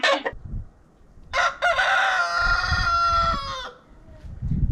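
A farm rooster gives one loud, close crow lasting about two seconds, preceded by a short cluck, with no talking.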